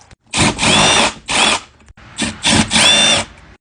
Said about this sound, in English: I got everything hooked up to our impact